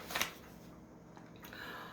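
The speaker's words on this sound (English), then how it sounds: "page turn" A book page turns once, with a short papery flick and rustle near the start, followed by quiet room tone.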